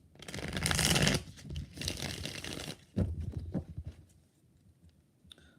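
Tarot cards are shuffled in quick, close bursts of riffling and soft slapping, with brief pauses between handfuls, then a few faint taps as the deck settles.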